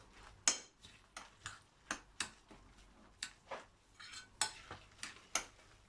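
Spoon stirring an apple and cinnamon cake batter in a bowl, about a dozen sharp clinking strokes in a quick uneven rhythm, close and fairly loud, with no talking.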